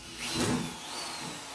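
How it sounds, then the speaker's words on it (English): A power drill bores a small hole into rusted sheet metal on an A-body car panel, a brief close whirring burst with a grinding bite that eases into a steadier hum over about a second. "I'm going to drill a small hole right where this rust hole is, right here"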